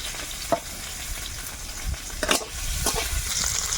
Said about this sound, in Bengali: তেল দিয়েছি পেঁয়াজ কুচি দিয়েছি আদা রসুন কুচি সব দিয়ে দেবো কাঁচা লঙ্কাও দিলাম